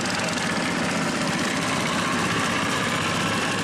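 A boat motor runs continuously on the Mekong River at a floating market, a steady, dense droning rumble close by with no pauses.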